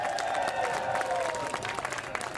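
A crowd claps and cheers at the grand opening ceremony of the new Nitro/St. Albans bridge, a continuous wash of applause with shouts and whistles rising over it, loud and sustained to the end.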